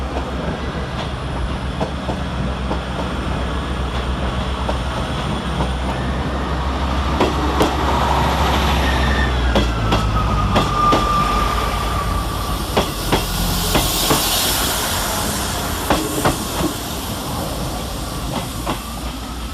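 A 158 diesel unit on a TransPennine Express service from Edinburgh Waverley to Preston at Carlisle station rumbles loudly and close, with hissing brakes, a rising whine and clicking wheel-on-rail noises.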